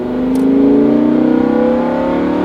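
A Lamborghini Huracan accelerating hard on a race track, a loud close engine tone climbing steadily in pitch as it revs through the gear, alone with no talk.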